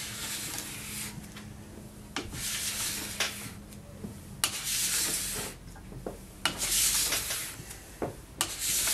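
A metal or plastic scraper rasps across waxed ski base in short repeated strokes, close and fairly loud, with brief pauses between passes.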